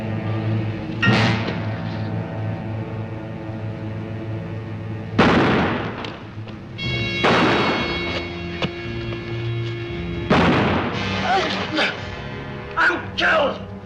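Gunshots in the 1957 western film Forty Guns: sharp, loud separate reports scattered among dialogue, with voices speaking and musical score underneath between the bangs.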